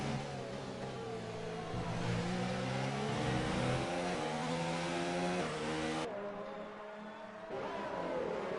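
Formula 1 race car engines at a Japanese Grand Prix in a video game scream with high revving pitch that climbs and shifts through gear changes, loud and continuous, with a sudden drop near the end.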